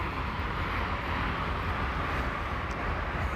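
Steady, loud broadband rumble of interstate traffic with repair-shop mechanical noise blended in during a tire replacement, continuous with no pauses and no voices.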